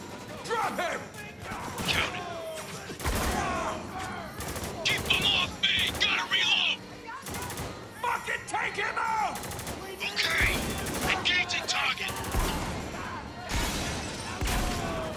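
Shotgun blasts and other gunfire crack out during combat in the video game Spec Ops: The Line, repeated heavy shots and impacts over a dense battle mix, with someone talking over parts of it.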